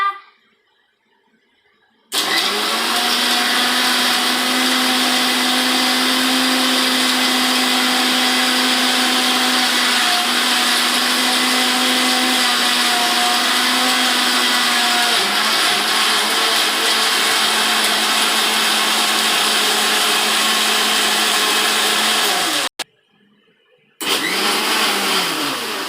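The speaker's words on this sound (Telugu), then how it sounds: "ఏం తర్వాత మిక్సీ పట్టాలి" A kitchen mixer grinder runs with a loud, steady motor whine and churning for about twenty seconds, starting abruptly after a quiet moment, pausing briefly near the end, then starting again.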